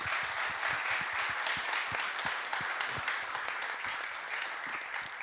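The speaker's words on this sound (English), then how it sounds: "I just want to get a big round of applause for our speakers here" An audience applauds, with dense, steady clapping from a crowd that carries on without a break.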